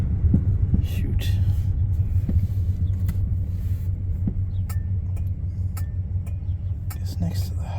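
A 1968 Oldsmobile Delmont 88 idles after a cold start on Thanksgiving, a steady low rumbling throb close by, with a few brief clicks and knocks over it and scattered voices in the background.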